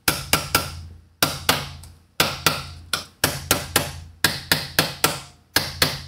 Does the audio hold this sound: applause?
no